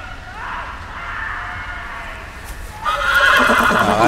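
A horse neighs in the Game of Thrones video game, a loud whinny over a steady ambient wash, with hoofbeats and a brighter burst of noise near the end.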